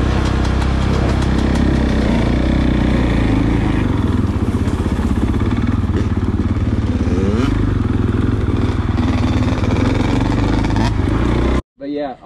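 Motorcycle engine running steadily at close range during off-road rider training, a continuous loud mid-pitched drone that holds for most of the clip and cuts out abruptly near the end, with a voice talking over it.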